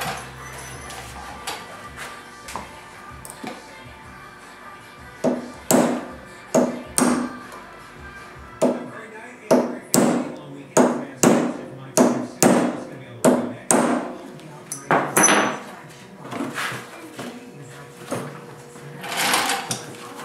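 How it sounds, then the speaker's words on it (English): A series of sharp metallic hammer strikes on a dented metal part of a 2005 Yamaha Grizzly 660 ATV comes in uneven clusters over steady background noise, some blows quick and close together, close and fairly loud. "we got to hammer that dent in"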